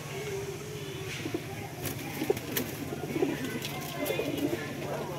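Punjabi pigeons coo softly throughout at a pigeon sale, a steady murmur of several birds with occasional wing flaps and sharp clicks over constant background noise.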